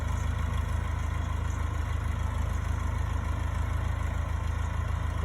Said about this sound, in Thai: เราใช้รถไถใหญ่